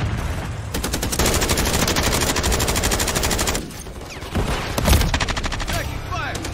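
Sustained automatic gunfire in the Call of Duty: Modern Warfare 3 multiplayer map Rust, loud and close, with rapid bursts that pause briefly near the middle before resuming.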